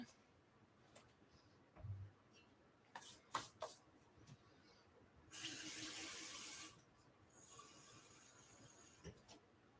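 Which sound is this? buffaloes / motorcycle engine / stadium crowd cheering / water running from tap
water running from tap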